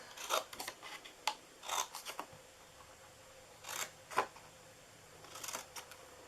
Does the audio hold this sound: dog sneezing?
no